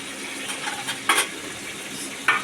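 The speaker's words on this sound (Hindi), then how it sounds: "तेल के अंदर लहसुन डाला है" Garlic frying in oil in a pan gives a steady, close sizzle, broken by a couple of sharp scraping clinks from a utensil against the pan.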